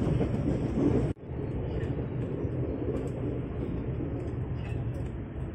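Tokyo Metro 6000 series KRL commuter train entering Sudimara station, a steady rumbling interior drone with a sudden drop in sound just after a second, then continuing evenly.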